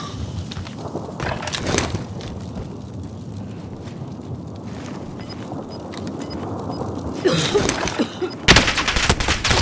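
Gunfire crackles in a Call of Duty match, with a short burst early on, a quieter stretch, then heavy rapid shots near the end.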